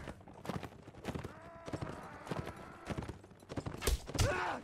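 Rhythmic clip-clop of horse hooves galloping in the Mount & Blade Warband video game, repeated hoofbeats at a steady pace with a brief whinny-like sound near the end.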